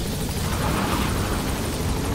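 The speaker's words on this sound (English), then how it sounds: "Support helicopter has arrived." A support helicopter in the video game Metal Gear Solid V produces a steady rotor and engine roar, dense and continuous at moderate loudness, with no speech over it.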